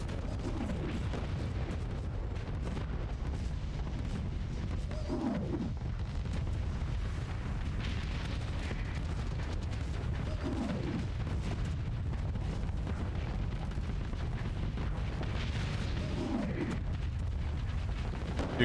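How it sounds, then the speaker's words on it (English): A black hole launcher firing in the space game Starsector, with a dense low rumble throughout and roughly three recurring sweeping weapon bursts about five seconds apart, no speech over it. "Is that a black hole launcher? Why, it is."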